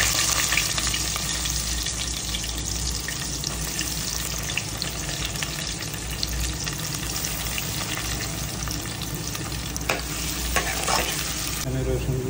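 Garlic cloves browning in hot oil in a pan, a loud steady sizzle that runs throughout with occasional stirring scrapes and no talk.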